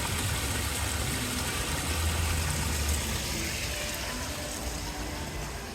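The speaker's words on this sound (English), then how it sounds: "Just hear that waterfall." A waterfall in the bamboo garden of the EPCOT park at Walt Disney World, heard as a steady, broad rushing wash of water that stays even and fairly loud throughout, with no voices over it.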